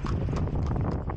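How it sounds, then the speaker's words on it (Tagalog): Horse hooves clip-clop steadily on pavement in an outdoor Pasay, Manila street scene, the rhythmic hoof beats mixed with wind and traffic-like rumble. "Merong kabayo."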